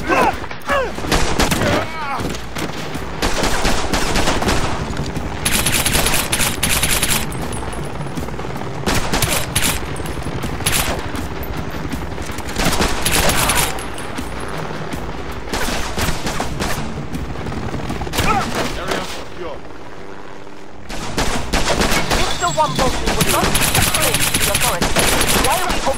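Repeated bursts of automatic gunfire on a shipyard dock in The Bourne Conspiracy game, loud sharp volleys with brief gaps, a near-silent pause near the end, then another heavy burst.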